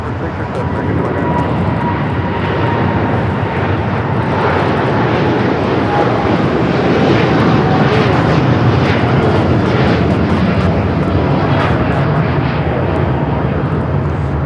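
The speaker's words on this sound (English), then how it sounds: "This is United Airlines 152 taking off to Hong Kong on the 787-9 Dreamliner." A United Airlines Boeing 787-9 Dreamliner takes off from LAX, bound for Hong Kong, a sustained loud engine roar with a whining tone, peaking midway, and talk running beneath it.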